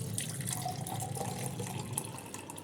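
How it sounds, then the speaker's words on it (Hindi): Soaking water from dal being strained into a glass, a steady thin trickle with small splashes and drips, close and moderately quiet, with no talking. "इसका पानी मैं अलग से गिलास में कर लेती हूँ"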